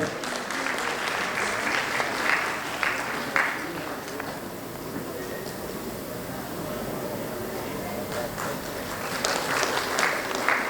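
Sustained applause from a large audience at a medical college convocation fills the hall, a steady dense wash of many hands with faint voices and brief cheers rising over it.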